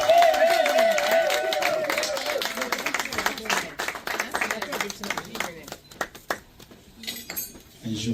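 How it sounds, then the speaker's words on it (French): A crowd at someone's 40th birthday party, a chic black-and-white evening, claps in a dense burst that thins into scattered claps, with clinking dishes and voices talking over it. "applaudissez"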